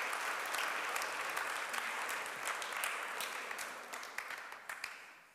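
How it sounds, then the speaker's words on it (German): Audience applause after a talk at a German forum event, a dense steady wash of many hands clapping close by, gradually thinning and fading toward the end, with no voices over it. "Geben Sie ihm nochmal herzlichen Applaus für diesen spannenden Beitrag."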